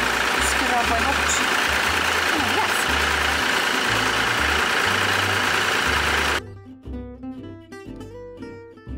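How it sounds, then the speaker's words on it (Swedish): An engine runs steadily beside a potato field machine whose moving chain scrapes, giving a loud continuous mechanical roar that cuts off abruptly to quieter rhythmic clattering. "Den här kedjan som åker skrapar bort."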